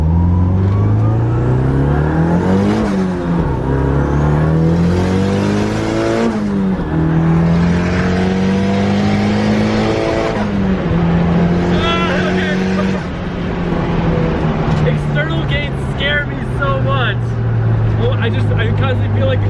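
A turbocharged car with a 2867 turbo running on E85 accelerates hard through several gears, heard from inside. The engine note climbs and drops again with each shift, loud and close, and a voice speaks over it.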